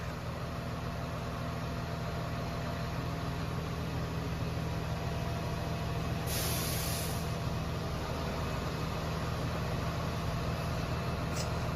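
A truck engine idles steadily and loudly close by, a continuous low rumble with a brief hissing burst partway through, as it reverses while a 12-ton CNC lathe is unloaded by crane.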